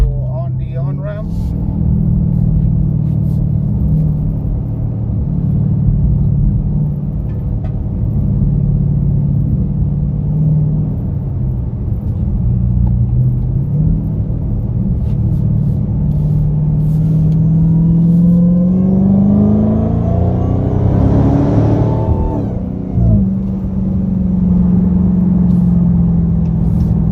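A muffler-deleted 2021 Dodge Charger Hellcat Widebody pulls onto a highway with a steady, loud, deep exhaust drone that rises in pitch as it accelerates hard, then settles back, heard from inside the car.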